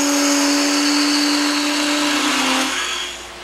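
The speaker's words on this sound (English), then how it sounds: "starting with a spindle gouge. It's going to take about 1/8 of an inch cut" A spindle gouge cuts a wooden top blank spinning on a woodturning lathe at raised speed, taking roughly an eighth-inch cut; a steady, loud whirring scrape with a bright hiss runs continuously, then tapers off as the tool lifts away.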